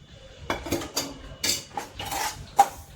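Semolina being dry-roasted in a pan with two spoons of ghee for sanjori puri, heard as irregular scraping and clinking of a spoon against the metal pan, close and fairly loud, with no talk.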